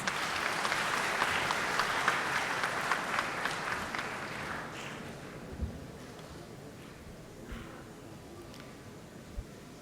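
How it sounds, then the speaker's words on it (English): An audience claps for a speaker at the valedictory function of a national student science camp, a steady roar of applause for about five seconds that then dies away, leaving room noise and a few soft thumps. "Please give him a big round of applause."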